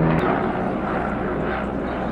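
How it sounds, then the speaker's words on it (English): An airplane passes overhead on a cold morning in a garden, its broad steady engine roar filling the clip at a loud, even level with no talk. "Let's let the plane go by."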